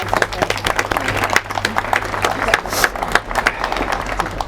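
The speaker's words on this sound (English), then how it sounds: "I think that deserves a round of applause." Guests at a wedding ceremony break into sustained applause, a dense crowd of hand claps filling the room with steady, lively clapping and some voices mixed in.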